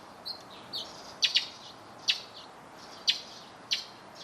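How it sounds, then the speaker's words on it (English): Birds chirp outdoors in short, high bursts, some doubled, repeating every second or so over a soft steady background hiss, in a place where hummingbirds are also present. "you might notice some different scenery and noises, like these birds"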